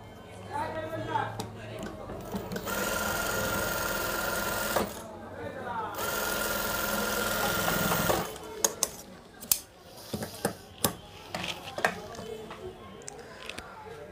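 A sewing machine double-stitches a frock in two long, steady runs, close and loud. A short pause separates them, and after the second run comes a stretch of clicks, knocks and handling sounds.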